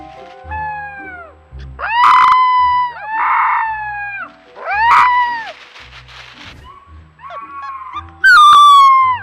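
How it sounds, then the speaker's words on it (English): Young wolf pup howling seen on a trail camera: a series of rising and falling wavering howls and yips, with short gaps between them and a louder, higher cry at the end, close and clear. "wolf pups as young as this one are capable of howling"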